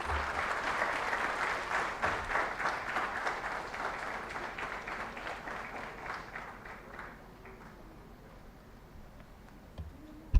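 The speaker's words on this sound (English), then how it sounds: "With a huge round of applause, may I request Honorable Minister Rao Inderjeet Singh Ji to kindly address the gathering." Audience applause at a Statistics Day ceremony, a dense steady clapping from a large crowd that gradually thins and fades out toward the end.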